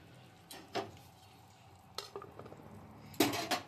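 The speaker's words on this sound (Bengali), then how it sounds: "এঁচড়টা সেদ্ধ হয়ে গেছে, এখন নামিয়ে নিচ্ছি।" Metal pot of boiled jackfruit being lifted off a gas stove, with a few scattered clanks and scrapes of cookware, quiet and close, no talking.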